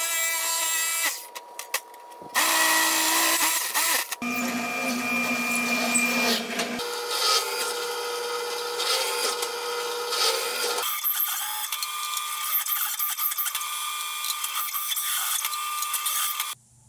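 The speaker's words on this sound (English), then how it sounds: "I got all the holes deburred." Power tool deburring drilled holes in a fabricated metal air cleaner box for a Datsun 240Z triple Weber carburetor cold air intake, a loud whining grind running in several bursts with brief pauses, alone without talk.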